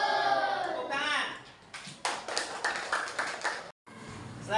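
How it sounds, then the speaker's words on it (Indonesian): A classroom of children claps together in a burst of quick, crisp hand claps mixed with young voices, following a teacher's spoken cue. "Tepuk tangan."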